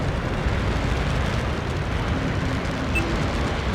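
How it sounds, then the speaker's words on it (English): A volley of missiles and its explosion in the jet combat game Metalstorm, heard as a dense, loud, continuous roaring rumble that fills the whole clip without a break. "You can go ahead and quickly fire off a volley of missiles and score a kill."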